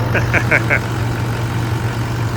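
The V8 engine of a Toyota Land Cruiser 200 VX idles with a loud, steady low rumble, and a voice briefly calls out over it near the start.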